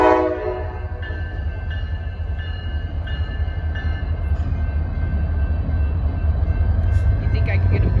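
A slow-moving freight train with an SD40 locomotive rolls past in a steady, loud low rumble, with short horn-like tones sounding at intervals over the top and a voice speaking nearby.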